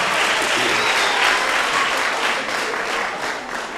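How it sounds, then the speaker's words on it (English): An audience claps at a public hearing on a climate change bill at Westville Civic Centre in KwaZulu-Natal, a loud sustained round of applause from a crowd that fades slightly toward the end. "I want to give you another opportunity to clap hands."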